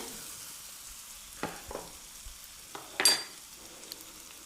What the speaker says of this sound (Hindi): और मसाला हमारा बिल्कुल अच्छे से भुन जाएगा